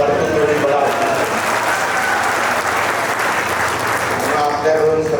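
Crowd applauding at an outdoor political rally, a loud dense roar of clapping that holds steady throughout, with voices and cheering blended into the mass of hands.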